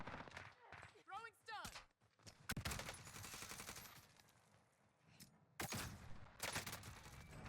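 Automatic weapon fire in the video game Warzone rattles in quick bursts, separated by short pauses and quieter stretches, mixed with other game sounds at a fairly low level.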